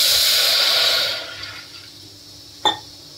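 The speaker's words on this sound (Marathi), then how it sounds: "थोडंसं पाणी टाकते मी." Water poured from a vessel into a cooking pot for rice kheer in a home kitchen, a steady broadband splashing stream for about a second that tapers off, followed by a single sharp clink near the end.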